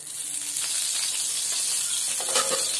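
Eggs frying in oil in a kadhai over a gas flame give a steady close sizzle with crackling spatter, continuous and fairly quiet throughout.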